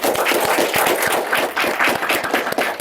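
A seated audience at a televised forum-dialogue event in Banten applauds, a dense, steady wash of many hands clapping that holds loud and even throughout.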